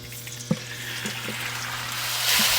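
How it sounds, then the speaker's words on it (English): Chicken sizzles in a hot pan with sesame oil, a steady frying hiss that swells toward the end, with a few light knocks and clinks of utensils. "Hear that sizzle?"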